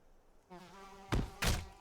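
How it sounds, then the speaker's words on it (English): Bees in Lord of the Rings Online buzzing in a low drone, followed by two sharp, loud hits as they attack. "Oh, and the bees attack."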